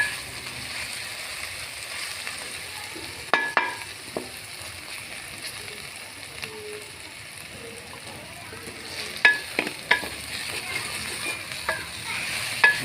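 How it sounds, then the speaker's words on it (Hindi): Mustard greens saag for a village-style sarson ka saag fry in oil over a fairly high flame, giving a steady low sizzle with scattered sharp scrapes and clinks of a spoon stirring the pan, busiest near the end. "भुनाई के टाइम थोड़ी सी फ्लेम को हाई रखना, ज़्यादा हाई भी ना हो।"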